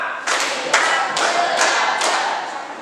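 A classroom group claps together on a counted cue, about five firm, evenly spaced claps in a steady rhythm, fairly close and with no talk over them.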